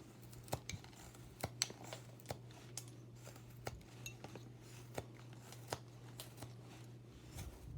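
Knife carving basswood-style wood away from the chest of a small carved figure, giving crisp, short slicing scrapes and clicks in an irregular rhythm, close and fairly quiet, over a steady low hum with no talk.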